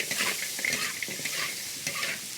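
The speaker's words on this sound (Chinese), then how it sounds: "再放一大勺豆瓣酱，给它炒出红油来" Chili bean paste, ginger, garlic, dried chilies and Sichuan peppercorns stir-fry in hot oil for braised pork ribs, giving a close, crackling sizzle with quick scraping stirs of a spatula throughout.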